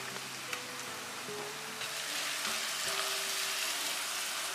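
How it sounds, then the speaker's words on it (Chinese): Fermented black beans and white sesame stir-fry in a wok with salt and oyster sauce, giving a dense, steady sizzle like rain, with a faint scrape of the spatula now and then. "继续炒出豆香味后，加适量的盐，来点蚝油炒匀"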